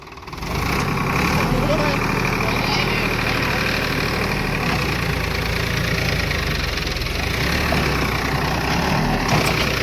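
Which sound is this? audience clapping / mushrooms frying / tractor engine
tractor engine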